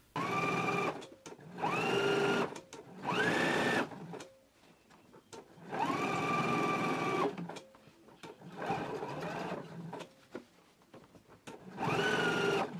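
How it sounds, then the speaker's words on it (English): A domestic sewing machine understitching the seam allowance onto the under collar of a Simplicity 8890 garment, running in five or six loud bursts of a second or two each, separated by brief pauses, with no talk. "we can go ahead and do our understitching now"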